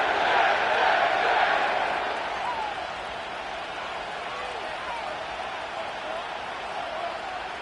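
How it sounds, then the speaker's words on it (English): A stadium crowd at MetLife Stadium in East Rutherford, New Jersey roars in an EA Sports football game, a broad, steady wash of cheering that swells loudly at first and then settles into a sustained distant din. "The crowd is definitely ready."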